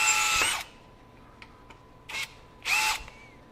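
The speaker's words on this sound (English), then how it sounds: "Plenty of power in low to drive those screws." A Bosch GSB18V-1330C 18V hammer drill driver whirs in three short bursts while driving screws, each burst loud and close with quiet pauses between.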